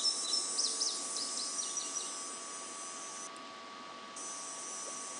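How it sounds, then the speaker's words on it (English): Birds chirping and cicadas buzzing in a Second Life virtual world, a steady high insect drone with scattered bird calls early on, faint and continuous as background ambience. "You can also hear sounds in the background, cicadas, different birds and so forth."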